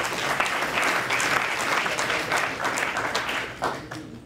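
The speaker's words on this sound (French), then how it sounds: "On les applaudit." An audience applauds steadily, a dense, even wash of clapping from many hands that tapers slightly near the end.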